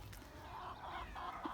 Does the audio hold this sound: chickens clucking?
yes